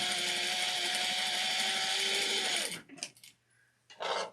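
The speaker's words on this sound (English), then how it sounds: "So I'm going to go back and stitch" A sewing machine runs a steady, close, whirring stitch along an apron strap for about two and a half seconds, then stops abruptly, followed by a few brief handling and thread-trimming noises.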